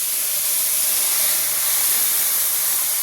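Marinated food lowered into hot oil seasoned with black cumin seeds, a loud, steady, close sizzling hiss that lasts the whole stretch without a break.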